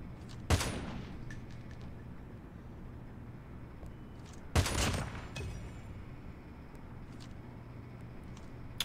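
Gunfire in Call of Duty Mobile comes as two short, sharp bursts of rapid shots several seconds apart over quiet game ambience.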